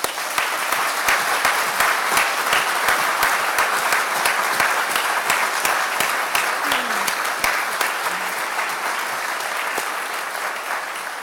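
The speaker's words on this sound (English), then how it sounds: "Shall we applause one last time?" A crowd claps steadily throughout at a biological sciences commencement ceremony, a dense, sustained round of applause that stays loud from start to finish.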